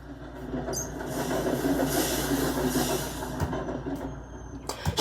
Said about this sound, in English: There goes the high speed train off to Seaside City.